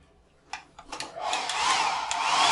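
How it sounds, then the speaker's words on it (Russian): A hair dryer in a hotel bathroom at a five-star resort in Alanya, Turkey, switches on after a few clicks and then blows with a steady, rising whoosh close by. "Фен."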